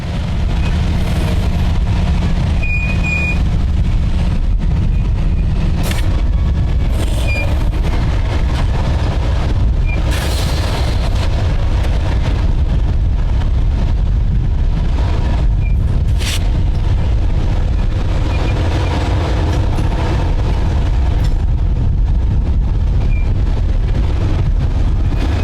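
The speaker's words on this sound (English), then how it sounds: "CSX AC6000, number 611, was on the point of this train with an SD40-2 trailing." A CSX freight train led by AC6000 locomotive number 611, built in November 1998, with an SD40-2 trailing, rumbles steadily and loudly up close for the whole stretch, a deep continuous roar buffeted by wind, with a few brief higher squeals.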